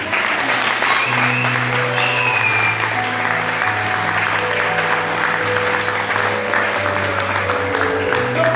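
A church seminar congregation breaks into sustained, dense applause that stays loud and steady throughout, with a faint low hum of voices beneath and no clear speech.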